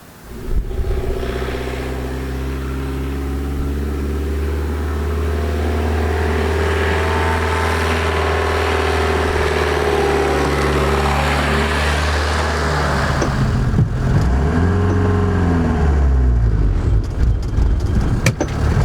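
Peugeot 2.5 litre naturally aspirated diesel in a Talbot Express motorhome labours up a hill, a loud steady drone with rising harmonics, then a gear change and fresh strained revving near the end.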